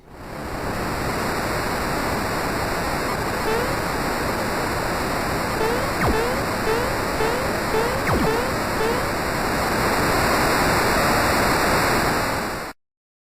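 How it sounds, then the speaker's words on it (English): In Super Mario RPG, water gushes out of a door in a loud, steady rushing roar that holds for about twelve seconds and then cuts off abruptly. "water does come gushing out of the door"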